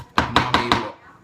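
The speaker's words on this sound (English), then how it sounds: "smacking some garlic with a knife and hoping it just sort of comes out" A knife smacks garlic cloves on a board in four firm, evenly spaced whacks, loud and close, each with a short ringing tail. A fifth strike comes at the end.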